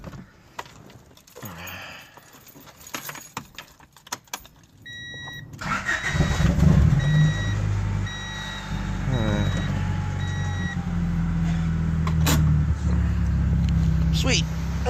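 A Honda Prelude with cut springs and an open exhaust cranks and roars to life, then rumbles loudly and steadily up close. Electronic chime beeps sound at the start, and voices talk quietly beforehand.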